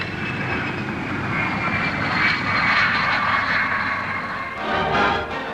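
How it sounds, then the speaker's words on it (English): Hawker P-1081 fighter jet with a Rolls-Royce Nene turbojet flying past at an airshow, a steady broad roar that swells and holds, then dips and rises again. "Wimpy Wade, chief test pilot of Hawkers, flies the P-1081 fighter with its Rolls-Royce Nene turbojet engine."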